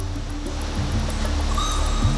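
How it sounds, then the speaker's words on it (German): A waterfall in the jungle roughly 100 metres below sends up a steady broadband rush of water, continuous and moderately distant, with faint bird calls and leafy ambience on top. "Der Wasserfall, den du hören kannst, ist nur 100 Meter unter uns"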